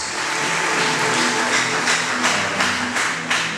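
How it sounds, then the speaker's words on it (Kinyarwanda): A congregation at a Christian revival gathering in Rwanda breaks into loud, sustained applause, a dense wash of clapping with a few sharper rhythmic bursts near the end. "Nagira ngo babashimirire n'amashyi menshi mu izina rya Yesu."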